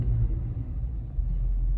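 An Infiniti FX50 on bald tires spins its front wheels in snow during a snowstorm. A loud, continuous low engine and drivetrain rumble surges slightly as the wheels spin.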